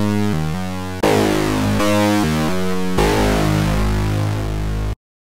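A Spektrumsynth 2.0 FM synthesizer in unison mode plays a series of loud, buzzy, harmonically rich notes with thick, edgy timbre, shifting pitch every second or so before stopping abruptly.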